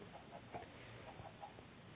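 Soft, repeated chicken clucks in Minecraft, several short calls scattered over a steady background hum, moderately quiet.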